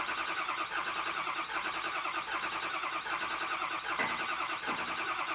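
A Ford F350 truck with a 6.0L diesel engine cranks at length to start, giving off a steady, fast rhythmic whirring drone with a couple of deeper surges near the end.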